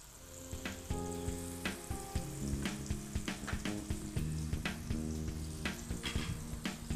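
Chili, ginger and garlic paste fries in a pan with a loud continuous sizzle, punctuated by repeated sharp clinks and scrapes of stirring throughout, close and alone.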